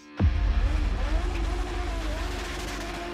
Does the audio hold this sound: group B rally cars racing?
yes